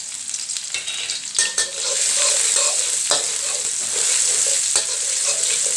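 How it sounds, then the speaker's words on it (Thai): Chilli and garlic stir-fry in hot oil for a Thai clam dish, a steady close sizzle with scraping spatula strokes and occasional sharp clanks against the pan, no voices. "ก่อนอื่นเราใส่น้ำมันลงไปก่อนนะคะ ทุกคน ตามด้วยพริกกับกระเทียมค่ะ"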